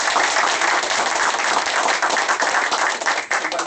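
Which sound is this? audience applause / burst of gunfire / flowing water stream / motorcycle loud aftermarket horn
audience applause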